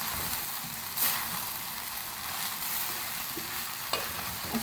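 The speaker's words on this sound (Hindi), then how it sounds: "लकड़ी के स्पून लेंगे, ऐसे अच्छी तरह से मिक्स करेंगे" Wooden spoon stirring rice in a hot pan for a vegetable or Arabian-style rice dish, a steady soft scraping under a constant sizzle, with a few louder scrapes standing out near the start and end.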